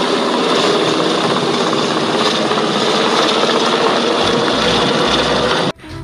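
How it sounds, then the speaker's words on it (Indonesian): A military helicopter roars loud and close, a continuous rotor and engine drone that holds steady for nearly six seconds and then cuts off abruptly. "ini ada helikopter militer"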